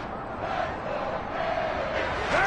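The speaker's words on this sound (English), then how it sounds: "the crowd getting into it as we come up on a big 3rd down" Football stadium crowd during a Dolphins vs Raiders game, a dense steady roar of cheering voices with rising shouts toward the end.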